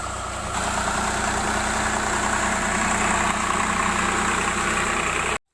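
A power tiller engine runs steadily while earthing up soil in a sugarcane field, a loud continuous mid-low mechanical drone with vibration and no pauses, cutting off abruptly at the end.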